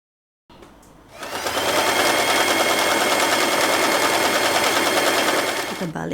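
A sewing machine runs steadily as it stitches a folded strip of satin ribbon fabric, a loud continuous rapid whir that starts after a brief quiet lead-in and stops just before the end.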